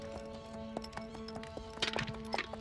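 Horse hooves clip-clop at an irregular, moderate pace, fairly close, over a steady sustained tonal backdrop with no speech.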